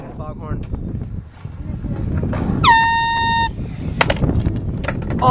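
An air horn, used as a hidden foghorn prank, gives one sustained, loud, harmonically rich blast of nearly a second, with people talking and moving about before and after it.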